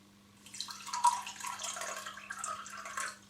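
Water pours and splashes briefly as nigari is mixed with it for homemade tofu, a soft liquid rush lasting a few seconds over a quiet background hum.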